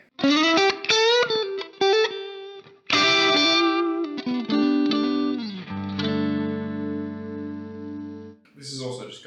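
Electric guitar on its neck pickup running through a Helix modeler with light drive, strummed chords and picked notes ending in a long sustained chord, close and clear, followed by a brief burst of noise.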